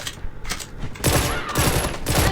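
Rapid bursts of Renetti pistol fire in Call of Duty Mobile, loud and close, with a quieter stretch followed by sustained shooting in tight repeated volleys.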